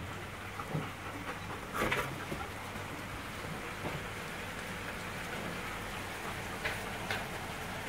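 Steady rain patters on a surface, a constant hiss with a few louder drips and gusts, no voices.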